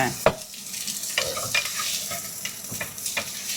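Onions browning in macadamia oil in a pan, giving a steady close sizzle with irregular scrapes and stirring knocks over it, moderately loud and without talk.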